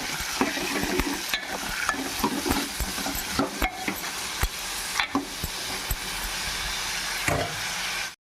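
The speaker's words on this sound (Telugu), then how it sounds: "ఉల్లిపాయ ముక్కలు, టమాటా, పచ్చిమిరపకాయలు వేసాను. కొంచెం ఫ్రై చేసుకున్నాం" Onions, tomatoes and green chillies sizzle loudly in hot oil for a chicken curry. Stirring scrapes and knocks in an irregular rhythm over the steady close frying hiss.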